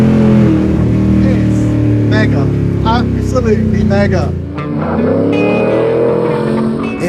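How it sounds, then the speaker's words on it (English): A 7-litre engine roars loudly and continuously throughout, a deep sustained rumble with rising revs, while someone talks over it. "The 7-litre engine is deafeningly loud and sounds vaguely terrifying"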